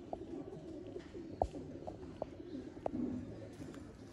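Pigeons kept by a breeder coo in short soft calls scattered across a few seconds, with a couple of sharper sounds in a quiet setting and no talking.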